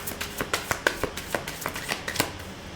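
Tarot cards are shuffled by hand in quick, crisp riffling bursts, a dozen or so rapid flicks close to the listener, with no talking.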